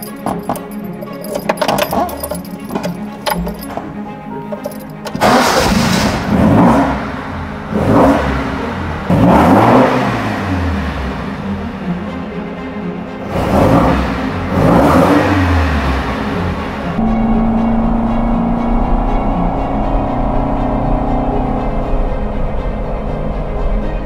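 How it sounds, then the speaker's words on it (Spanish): An Alfa Romeo Junior Zagato engine rattles and clicks, then fires and revs hard in several sharp, rising blips before settling into a steady, lower idle hum, loud and close with no speech. "Es muy nervioso, el motor acelera muy rápido, no tiene una gran potencia"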